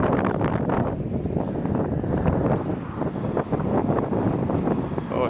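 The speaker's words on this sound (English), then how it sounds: "It's quite windy." Strong wind buffets the microphone outdoors at Stirling Agricultural Centre in Scotland, a dense, steady low rumble with gusty swells that holds loud for the whole stretch, with no clear voice over it.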